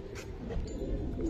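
A female Giribaz pigeon gives a soft, low coo, close and fairly quiet, over a faint background hum, lasting just over a second.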